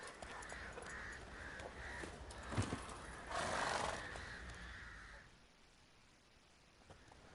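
Roach, a horse in The Witcher 3, gives a brief whinny amid outdoor game ambience after being reined to a halt, the call rising over a steady background wash before fading quieter.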